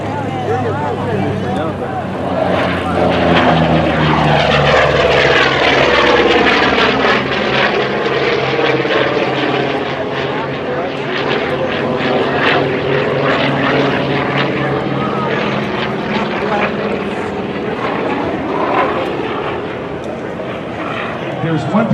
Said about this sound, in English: Here comes the Corsair.